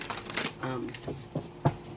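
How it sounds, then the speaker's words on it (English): A deck of oversized tarot cards is shuffled by hand in short papery riffles and taps, heard close and under a person talking. "these cards are huge, so forgive the way I shuffle them"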